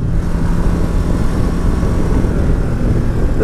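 A 2019 Ducati Multistrada 950 S motorcycle accelerates in sport mode, a loud, steady, low engine drone mixed with heavy rushing wind noise throughout.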